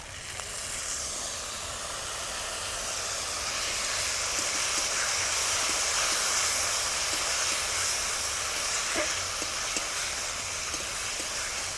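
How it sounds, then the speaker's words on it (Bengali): Tomato and spice masala with chilli powder, turmeric and a little water fries in a pan for a village-style egg dish. A steady, moderate sizzling hiss continues throughout with no talking. "মশলাটাকে একটু ভালো করে কষিয়ে নিতে হবে"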